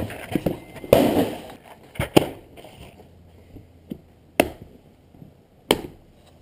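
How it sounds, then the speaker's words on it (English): Gunshots at an outdoor shooting range, including a 9mm handgun: sharp, scattered reports at irregular intervals, some nearby and loud, others fainter, with muffled talk and background noise between the shots. "Pop off some rounds."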